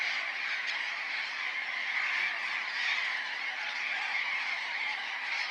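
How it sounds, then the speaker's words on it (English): A flock of burrowing parrots calls in an arid semi-desert neighborhood of the Atacama, a continuous dense chorus of overlapping squawks at steady loudness with no talk. "Even colorful, noisy flocks of burrowing parrots can find a place to call home in these arid neighborhoods."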